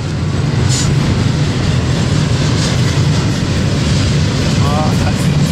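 A Norfolk Southern freight train rumbles past at close range, a steady loud roar of rail and wheel noise that fills the whole stretch, with a brief horn-like tone near the end and some talk nearby.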